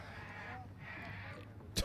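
Crows caw in the distance behind steady, persistent rain, with a brief louder burst near the end.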